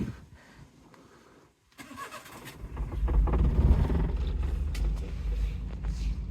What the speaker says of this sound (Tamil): இன்ஜின் ஓடுறது உங்களுக்கு சத்தம் கேட்குதா